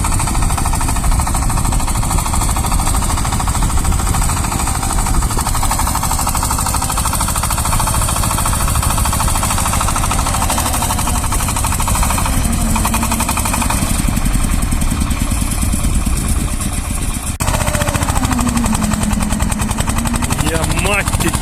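A Shifeng 240 minitractor engine works a rotary tiller in a garden plot, a loud, rapid, knocking diesel clatter that runs continuously up close, with a voice heard faintly underneath.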